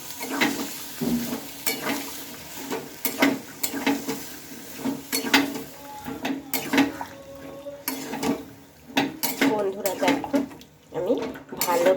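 A spatula clatters and scrapes in a pan as boiled chickpeas and potatoes are stirred into fried spices for vegetarian chana ghugni, with irregular clinks, a faint sizzle and a voice speaking at times.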